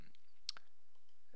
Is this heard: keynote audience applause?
no